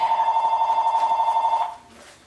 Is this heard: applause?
no